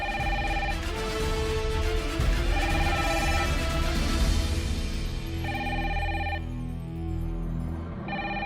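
A telephone rings in repeated electronic bursts with short gaps between, loud and persistent over a dense, noisy background.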